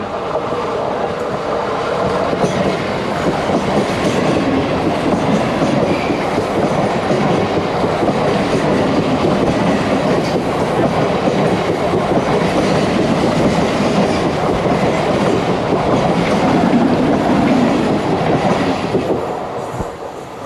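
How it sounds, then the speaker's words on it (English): A Mumbai local train rumbles steadily past at close range, a continuous loud roar with rhythmic clatter of wheels on track throughout. "you can watch the local train go by really close"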